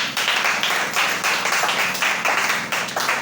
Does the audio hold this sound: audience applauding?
yes